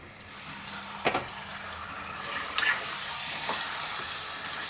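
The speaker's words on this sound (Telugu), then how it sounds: "మంచిగా కలుపుకుందాం చికెన్ అయితే." Chicken curry is stirred in a pan, with a soft continuous sizzle and a few distinct scraping strokes of a spoon against the pan, fairly quiet and close.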